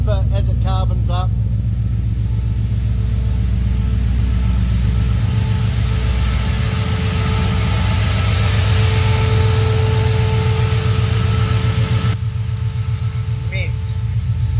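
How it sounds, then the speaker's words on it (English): A Holden VK Brock Commodore V8 idles with a deep, throbbing exhaust note, a steady low pulsing rumble close by that shifts slightly in pitch, while people talk nearby. "Really nice deep exhaust note that'll only get deeper as it carbons up."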